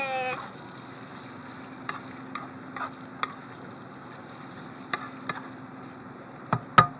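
Pork sisig sizzles steadily on a hot sizzling plate, a constant hiss with a few faint clicks and taps of utensils, ending in a couple of louder knocks.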